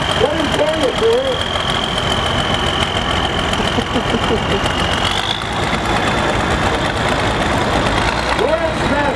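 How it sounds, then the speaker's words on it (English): A diesel tractor engine chugs steadily at a tractor parade, a loud continuous idle-like rumble with crowd noise and a voice over a loudspeaker. "You can tell it's a diesel because you put diesel in it to make it run."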